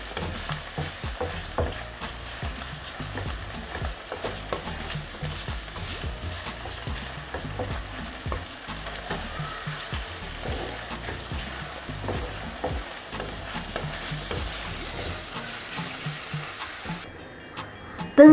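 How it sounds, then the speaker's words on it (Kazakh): Onion and beef mince frying in a pan, a steady close sizzle with frequent stirring scrapes and clicks throughout, no talking. "Пиязымыз өстіп әдемілеп қуырылып жатқан кезде оның үстіне фаршымызды қосамыз."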